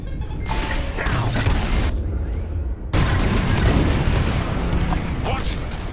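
Bombs explode during a Star Wars space bombing raid, a dense barrage of deep booms and blasts with mechanical rumble that keeps going loud throughout, with a voice speaking over the din.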